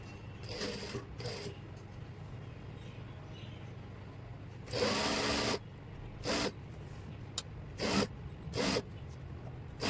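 Sewing machine stitching a waistband belt onto trousers, running in several short bursts of a few seconds each, fairly close and moderately loud over a low background hum.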